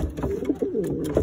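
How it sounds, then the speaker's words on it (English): Close, soft cooing of a male Cuban thief pouter pigeon, several low throaty rolling coos in quick succession. "This is my Cuban thief Pouters."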